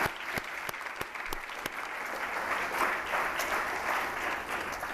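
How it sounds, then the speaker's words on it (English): A crowd applauds steadily at a school sports awards ceremony, a dense wash of clapping with a few sharp, distinct claps standing out near the start. "Let's give them a round of applause."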